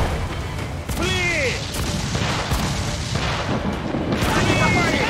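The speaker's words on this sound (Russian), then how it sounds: "Тяжелые пушки, осторожно! Готовы стрелять" Heavy booming ship cannon blasts fire in quick succession over a dense, rumbling battle din in Assassin's Creed IV: Black Flag, with someone shouting excitedly throughout.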